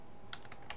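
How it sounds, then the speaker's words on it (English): Short burst of typing on a computer keyboard, a few quick crisp key clicks, close and faint with no talk. "So I'm just going to type in an author's name."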